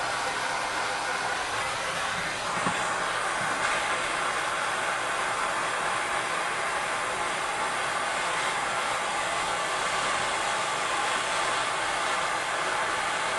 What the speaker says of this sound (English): the hottest part of the fire would be the light blue flame that you see.